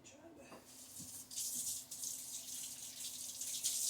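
A kitchen tap runs steadily while hands are rinsed after mixing hamburger meat, a close hiss of flowing water that swells after the first second and carries on without a break.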